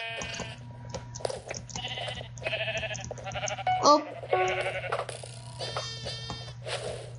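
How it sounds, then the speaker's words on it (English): Sheep bleating in the Minecraft video game, several short bleats repeating through the clip over a steady game background hum, with players talking excitedly over them. "We need to get the sheep."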